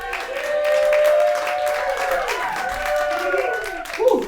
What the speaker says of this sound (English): Wait till my jokes before you clap.